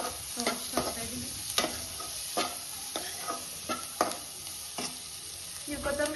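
Chopped half tomato frying in oil in a pan for ellikaayi chitranna, a steady sizzle broken by regular spatula scrapes and taps against the pan, close and clear.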